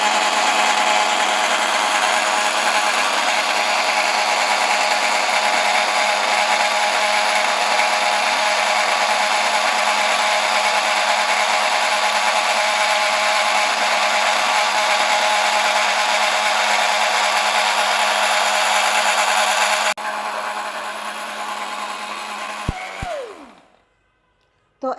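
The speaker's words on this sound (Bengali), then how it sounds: "এখন সর্বোচ্চ 2-তে দিয়ে ব্লেন্ড করে নেব প্রায় 1 মিনিটের মতো।" An electric blender runs at its top speed, whirring loud and steady while blending a banana milkshake, then switches down and winds to a stop near the end, with no talking.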